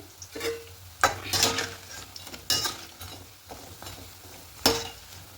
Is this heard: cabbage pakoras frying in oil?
yes